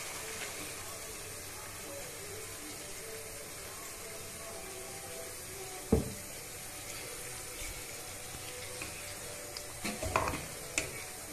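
Small cuttlefish in tomato sauce with white wine simmer in a pan in a Gallipoli kitchen, giving a faint steady sizzle and bubble with a sharp clink near the middle and a few light stirring knocks toward the end.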